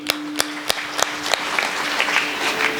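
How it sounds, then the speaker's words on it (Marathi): Audience clapping at a Marathi kirtan for Sant Savta Mali's death anniversary, starting as a few sharp, separate claps and then swelling into steady, dense applause from a crowd nearby. "का बरं टाळी वाजवली?"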